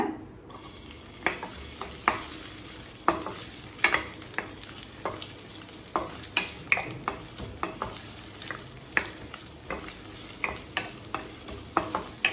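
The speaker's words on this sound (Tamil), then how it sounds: "கடாயில் தேவையான அளவு எண்ணெய், இப்போ 1/4 கப் இஞ்சி சேர்த்துக்கலாங்க" Ginger frying in oil in a kadai, a loud steady sizzle broken by frequent sharp spatula scrapes and clicks against the pan, with no voices.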